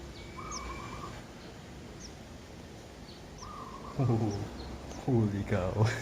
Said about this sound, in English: because I can hear birds.